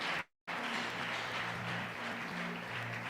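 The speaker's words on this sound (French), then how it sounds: "Applaudissez le Seigneur encore une fois." Church congregation at a conference applauding, a sustained, even roar of clapping after a brief gap at the start, with a low hum beneath.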